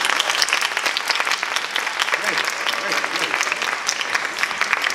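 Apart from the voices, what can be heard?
audience applause for a volunteer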